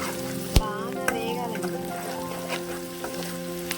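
A steady sizzle of onion paste frying in oil, with an occasional sharp clink of a utensil against the pan.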